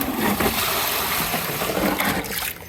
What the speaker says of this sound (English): the water, we'll try and tip it this way so it goes in the garden